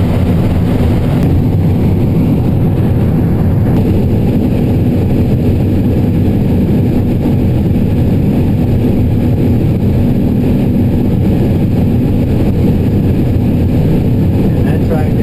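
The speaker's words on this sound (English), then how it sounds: "And that tractor is 8335 horse." An 8335-horsepower tractor on a corn farm runs with a loud, constant low engine drone that fills the whole stretch, while voices talk over it.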